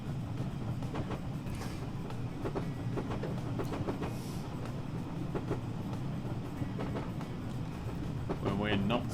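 BR Class 506 EMU electric train running on the Woodhead line in Train Simulator 2021, a steady low rumble with rhythmic clickety-clack of wheels over rail joints, with someone talking over it.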